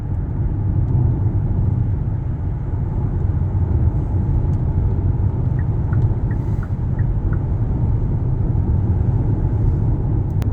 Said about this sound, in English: So let me get some miles on this car.